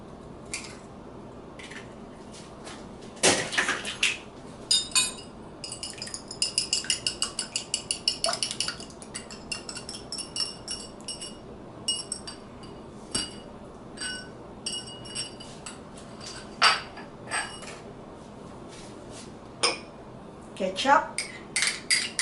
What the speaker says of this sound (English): Let's beat the egg first.